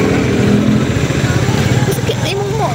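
A motorcycle engine passes along a street, its mid-pitched drone rising and then fading as it goes by, with people talking over it throughout.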